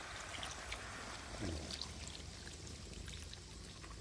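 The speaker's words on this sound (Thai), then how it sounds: "ตามด้วยเบียร์สดเบียร์ไปเลย" Draft beer is poured into a pot of pork belly with crushed ginger, making a soft, steady, fairly faint pouring and splashing sound that runs the full length without talk.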